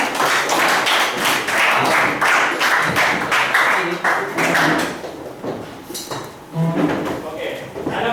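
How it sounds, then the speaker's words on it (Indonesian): A classroom of students claps together in a sustained burst of dense applause that fades near the end, followed by a few scattered sounds. "Oke, tepuk tangan untuk kita semua."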